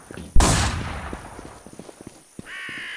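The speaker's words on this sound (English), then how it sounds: "I hear someone with a Mossberg" A Mossberg shotgun fires once in the WarZ shooter game, a loud close blast with a long fading tail, followed by faint clicks and a brief electronic tone.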